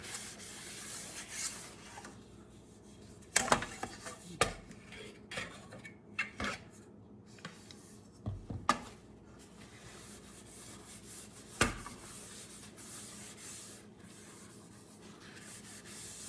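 Paper towel rubbing oil over a cake pan, a soft continuous scrubbing with several sharp metallic clanks and knocks of the pan in between; no voices.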